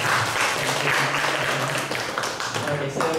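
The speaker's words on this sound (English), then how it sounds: "Give applause to Mustio." Steady applause from an audience at a university mental health field school session welcomes a speaker to the floor, dense and continuous, with voices talking over it and a faint tonal murmur underneath.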